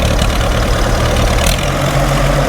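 A Farmall 350 diesel tractor, cold-started in snow with thick oil, idles loud and close in a steady low rumble with an even throb throughout.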